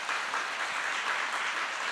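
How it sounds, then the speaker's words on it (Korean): A church congregation applauds author Kim Jong-du and his wife as they stand to be introduced, a dense, steady wash of clapping that fills the room evenly for a couple of seconds. "두 분 박수 좀 한번 해주십시오."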